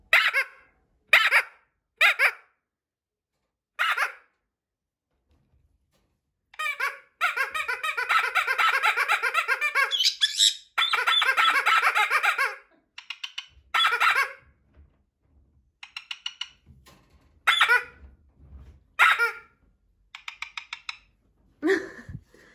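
Shrill squeaks from a pink squeaky toy bird come in short bursts and longer runs of rapid chirping, loud and close, with pauses between.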